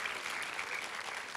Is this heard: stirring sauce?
no